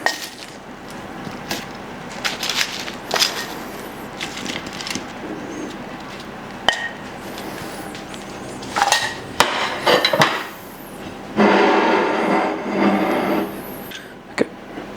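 Chips being plated alongside a rested medium steak, irregular clatter and knocks of food and utensils on a plate, some louder bursts of scraping and rustle, with no talk.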